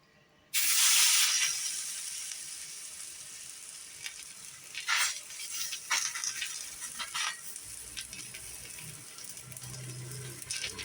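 Egg-dipped bread for a veg bread omelette hits an oiled hot pan with a sudden loud hiss, then settles into a softer, steady sizzle with a few brief flare-ups.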